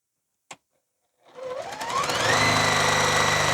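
Sewing machine stitching nested seam pieces together, a single click and then the motor whirring up to a steady, loud, close hum of rapid needle strokes.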